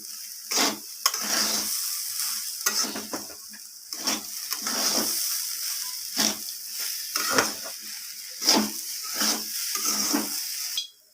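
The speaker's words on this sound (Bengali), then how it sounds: "এরপর আমি সব কিছু আবারও ভালোভাবে নাড়িয়ে চাড়িয়ে মিশিয়ে নেব" Bhog khichuri being stirred in a pan, a series of close, rhythmic scraping strokes about once a second over a soft sizzle, with no voices.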